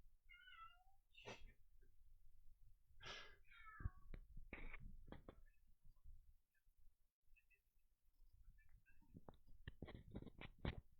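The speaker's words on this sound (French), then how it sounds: "Le chat qui s'y met." A cat meows several times indoors, with quiet, drawn-out calls spaced across the stretch and a cluster of shorter sounds near the end, against a low background rumble.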